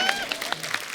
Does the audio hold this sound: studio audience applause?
yes